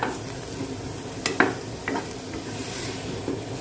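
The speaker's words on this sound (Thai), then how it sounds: "พี่สิริชอบนำหมูกับพริกแกงมาผัดก่อน เพราะว่า มันจะหอมนะคะ" Pork stir-fried with red curry paste for a pumpkin curry, a low steady sizzle punctuated by a few sharp scraping clacks of a utensil against the pan, close and moderately loud.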